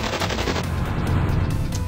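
A tank fires its gun in an attack in the video game Epic Battle Fantasy 4. Loud rapid-fire gunfire bursts run continuously through the short clip, dense and booming with no talk.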